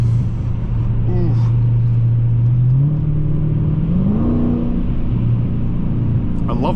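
Close engine note of a 2017 Dodge Challenger Scat Pack 392 Shaker, a deep rumbling V8 revving through gears with audible downshifts, heard from inside the car.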